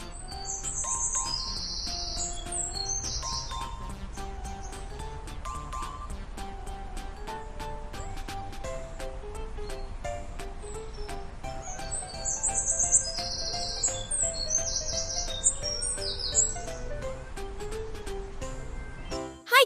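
A small wren sings a lively, cheerful song of rapid high chirps and bright trilling phrases, repeating steadily and fairly close over a soft background hiss.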